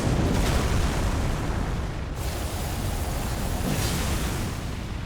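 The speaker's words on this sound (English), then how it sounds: "The big nuclear explosion." A huge nuclear-style blast from a boss in the video game Elden Ring: a loud, sustained rumbling roar that fills the whole stretch, with no voices over it.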